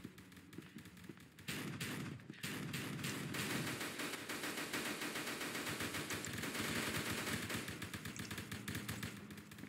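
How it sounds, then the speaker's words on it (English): Sustained automatic gunfire from multiple weapons in the multiplayer video game SCP Containment Breach, loud and dense bursts rattling almost continuously, with a short sharper volley at the start before the steady barrage. "What are they shooting at?"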